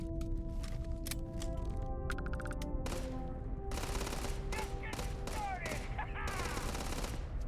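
Gunfire in Starfield, bursts of rapid shots and scattered single cracks building over a humming background, moderately loud with distant echoing tails.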